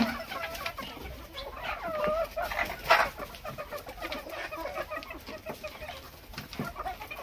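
Guinea fowl calling on a poultry farm, scattered squawks and chattering cries among other clucking and cooing birds, one louder call standing out midway.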